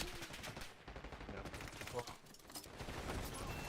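Rapid bursts of automatic gunfire and fusillades fill a Call of Duty Black Ops 6 multiplayer hardpoint match, dense and continuous with overlapping shots, while a voice talks over the action.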